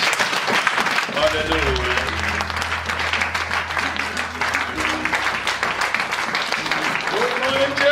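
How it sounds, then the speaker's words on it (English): Church congregation clapping hands at a Sunday service on 24 December, continuous dense clapping with a voice calling out over it and low music tones underneath. "Let's clap our hands for Jesus."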